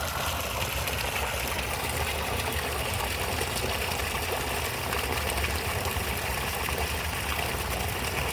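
Spring water rushes and gushes in a dense, loud, steady wash with no pause, and a low hum beneath it may come from an engine or pump.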